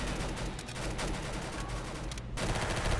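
Gunfire in the Roblox game Arsenal, a dense run of rapid shots crackling continuously over a low background, with a brief gap near the end before firing resumes.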